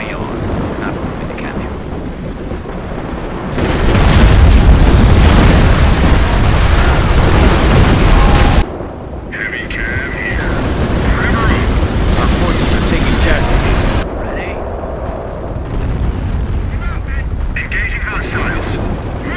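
An artillery battery fires in the Company of Heroes Blitzkrieg Mod game, making loud sustained roaring booms and rumbling blasts in heavy bursts, with game voices speaking over the battle noise.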